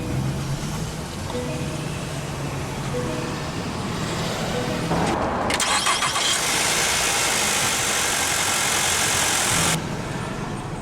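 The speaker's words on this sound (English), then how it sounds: "let's go ahead and start the engine" A 2023 Mitsubishi Outlander SE engine cranks by push-button ignition and catches about halfway through, then settles into a steady, loud idle with a broad hiss.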